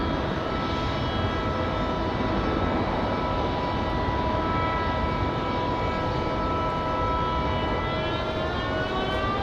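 Near Raleigh Durham International Airport, an airplane's engines roar loud and steady with a droning tonal whine that slowly shifts pitch, filling the whole stretch without pause or voices.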